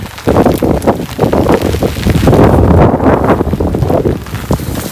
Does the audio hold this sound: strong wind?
yes